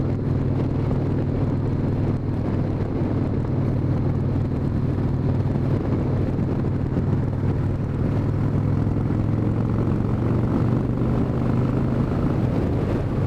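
A 1997 Harley-Davidson Wide Glide with ape hanger bars ridden over a broken, rough road, a steady loud low engine rumble blended with continuous wind rush across the whole stretch, no talking.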